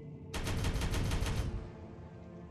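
Rapid automatic gunfire in a shooter video game, a loud fast burst of evenly spaced shots lasting about a second before trailing off into a fading echo.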